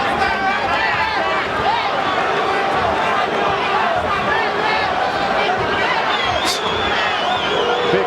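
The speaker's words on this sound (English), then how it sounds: "Big crowd on hand tonight to watch this exhibition of boxing." A big boxing arena crowd at a Roy Jones Jr. versus Julio Cesar Gonzalez fight keeps up a continuous loud roar and chatter, with no pause from start to end.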